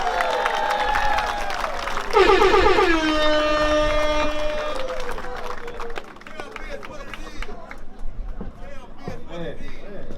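Outdoor crowd at a street-naming ceremony in Vallejo clapping and cheering for a speaker stepping up, a broad wash of applause with voices mixed in and speech continuing as it fades.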